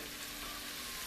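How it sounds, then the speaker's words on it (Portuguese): Onion frying in bacon fat, a steady dense sizzle filling the whole moment at close range with no voices over it. "vamos fritar a cebola também"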